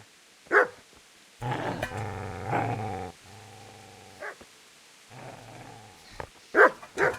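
Dog barking and growling in the medieval action game Kingdom Come: Deliverance: sharp loud barks open and close, with long rumbling growls in between, heard alone without talk.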